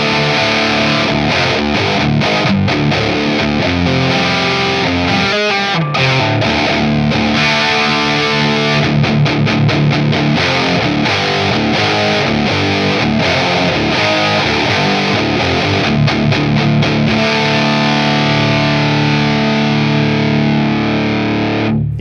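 Schecter Solo II Apocalypse electric guitar played through a heavily distorted amp channel, loud sustained riffs and held notes with a brief pause midway, then continued chugging chords.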